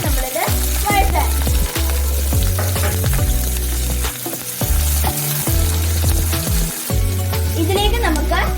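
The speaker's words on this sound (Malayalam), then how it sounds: "മീഡിയം ഫ്ലെയിമിൽ ഇട്ട് വേണം നമ്മളിത് വഴറ്റാൻ." Tomato and onion sauté in a pan on a medium flame for chana masala, giving steady loud sizzling and frying under background music with occasional stirring.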